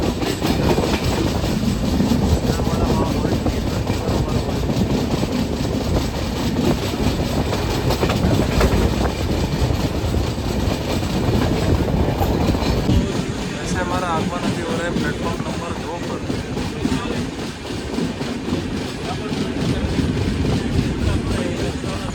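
A Mandovi Express train rolls along the Konkan Railway during the monsoon, with a loud, steady interior rumble and rhythmic clickety-clack of wheels over rail joints running throughout, and faint voices blending into the noise.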